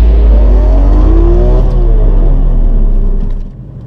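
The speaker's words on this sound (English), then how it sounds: "you want to slowly press the gas pedal down all the way to the floor" Car engine revving up loudly as the gas pedal is pressed slowly, a close, powerful roar with rising pitch that holds and then drops away at the end.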